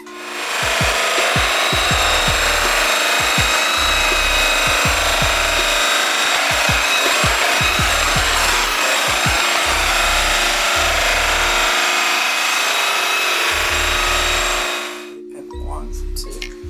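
A flannel buffing wheel spinning at about 1,800 RPM with Blue Moon compound, polishing with Zephyr polishes: a steady, loud whirring rush that holds for about fifteen seconds under a low rhythmic thumping, then cuts off near the end.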